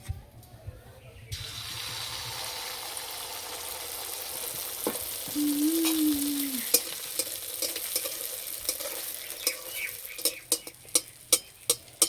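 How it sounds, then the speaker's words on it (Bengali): Jaggery pitha cakes fry in oil with a soft, continuous sizzle. A short tone sounds partway through, and sharp clicks and taps from a pan or utensil follow near the end. "এই পিঠেগুলো ভাজতে একদমই সময় লাগে না।"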